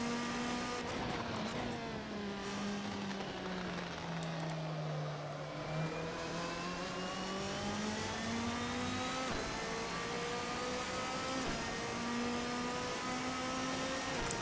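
A Ferrari 458 GT2 race car in a racing video game at Spa roars continuously, its engine pitch dipping and climbing through gear changes, loud and sustained with no talk.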